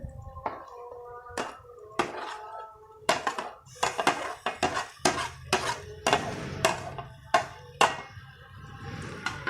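Mashed roasted eggplant being stirred into cabbage in a pan, a spoon clattering against the metal in repeated sharp taps and scrapes at close range, with no voices.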